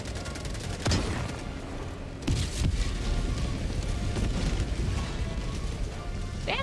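Bursts of gunfire from a weapon in Helldivers 2, sharp broadband shots at about one and two seconds followed by a steady dense roar of continuous combat noise, loud and close, with occasional later impacts.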